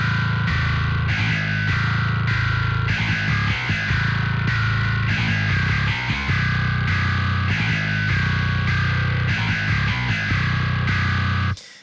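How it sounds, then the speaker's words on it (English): Programmed MIDI bass in a metal production with distortion processing switched on, a thick, gritty, continuous loud bass line with driving repeated notes and no talking. "So right now there's no processing on the bass. So let's turn that on and see what that sounds like."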